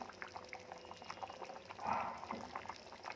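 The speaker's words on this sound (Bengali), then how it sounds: "এই যে মাছটা ফুটে এসেছে" Fish curry simmering in a pan, a soft continuous bubbling and sputter heard close but faint, with no voices.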